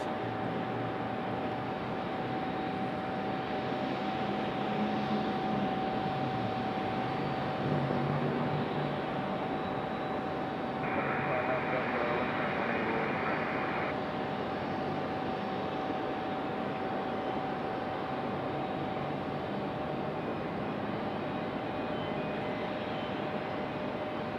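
Steady broadband jet engine roar from airplanes on approach to land at Raleigh-Durham International Airport, a continuous distant rumble with a constant tone running through it and no talk.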